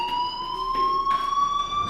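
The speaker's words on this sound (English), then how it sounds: "do you hear that fire alarm?" A fire alarm in the Life is Strange video game rings continuously, a loud steady electronic tone with harmonics, heard alone without speech.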